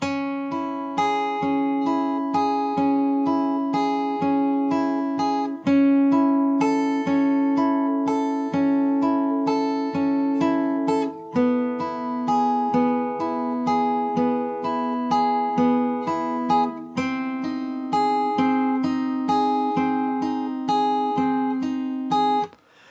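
A guitar plays a picked pattern of ringing notes in a steady repeating rhythm, clear and close, with no voice over it.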